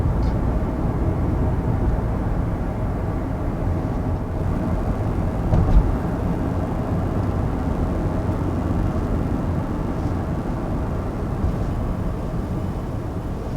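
A 2019 Nissan Murano pulls away from a standstill, heard from inside the cabin as a steady low engine and road rumble that holds fairly constant and loud throughout, with no voices.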